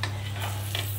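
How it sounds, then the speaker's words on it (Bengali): A stuffed onion cheese paratha fries in oil in a pan, giving a soft, steady sizzle with faint stirring scrapes over a low constant hum. "আমি এবারে তেল দিয়ে পরোটাটা ভেজে নেব।"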